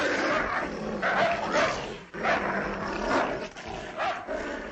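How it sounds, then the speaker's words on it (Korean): A bulldog growls and snarls while struggling in a fight, a rough, continuous guttural rumble with harsh bursts, close and fairly loud, with no talk over it. "무섭게 물어뜯으려 으르렁거리며 몸부림치는 불독"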